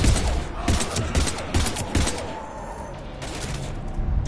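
Rapid bursts of gunfire crack and thud close by in a Mass Effect 3 firefight, dense repeated shots with a brief lull midway before firing resumes.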